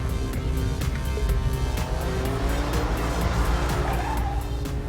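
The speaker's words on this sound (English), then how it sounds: "He's now on the brakes." A super SUV brakes hard on a race track, its tyres squealing loudly under a steady engine roar, heard close and continuous without talk.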